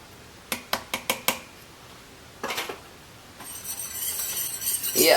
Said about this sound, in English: Yeah, this whisk is working a little bit better.